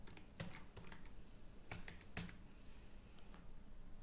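Quiet keystrokes as a name is typed on a computer keyboard: a few soft, irregular clicks in short bursts over faint room hiss.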